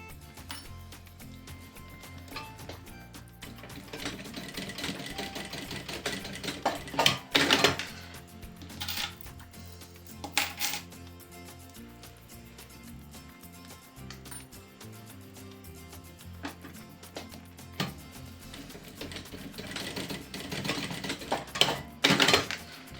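A sewing machine stitches a seam along the edge of fabric for a 3D animal preschool backpack, running in bursts of rapid mechanical chatter that swell louder and ease off amid rattling handling noises, with no voice present.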